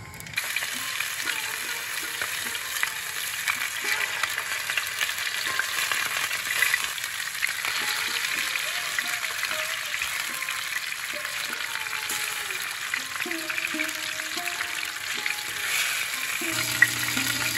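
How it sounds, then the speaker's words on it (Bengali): Nigella seeds and dried red chillies sizzle in hot mustard oil as a tempering for a tangy fish curry, a steady, close crackling fry with occasional stirring throughout and no talk. "এখন আমি ফোড়নটা দিয়ে দিচ্ছি কালো জিরা আর শুকনো লঙ্কা"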